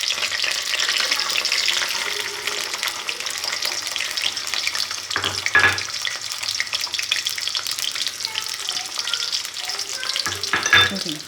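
Garlic sizzles and fries steadily in hot oil in a pan for a Punjabi rice and garlic curry, with a spoon stirring and scraping through it a couple of times; loud, continuous, close, no talking.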